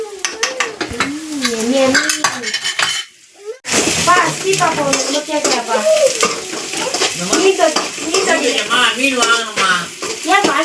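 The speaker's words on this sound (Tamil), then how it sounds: "அடுப்பில் வச்சு கொஞ்சம் கருவேப்பிலை போட்டு தாளிச்சிக்கலாம்" Curry leaves sizzle as they temper in a pan on the stove. Loud frying crackles and stirring clinks go on under almost constant nearby conversation, with a brief pause partway through.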